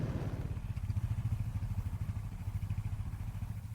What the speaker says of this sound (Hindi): राइड में कीवे SR 250 का एग्जॉस्ट एको कर रहा है।